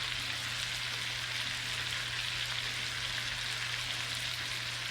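Garlic butter salmon frying in a pan, a steady, even sizzle with a constant crackling hiss and no breaks, heard alone.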